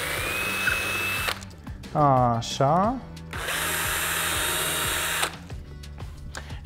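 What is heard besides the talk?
electric screwdriver drilling holes in cork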